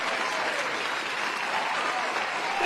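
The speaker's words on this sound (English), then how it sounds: "Let's clap hands for the brothers." Sustained audience applause fills the room at a steady, dense level, many hands clapping together and swelling slightly at the end.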